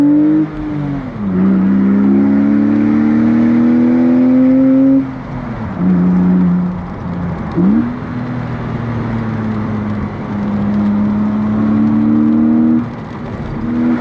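BMW Z4 E85 roadster engine on a mountain pass, revving up through gears in rising pitch sweeps with brief drops between shifts, loud and close throughout with no talking.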